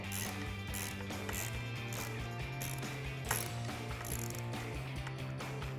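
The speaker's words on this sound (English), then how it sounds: "we'll take an 8mm socket to tighten down our clamp" An 8mm socket on a ratchet tightens a cold air intake clamp on a 2016-2023 Camaro SS. Rapid, steady ratcheting clicks sound up close, with no talking.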